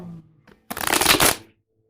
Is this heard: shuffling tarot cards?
yes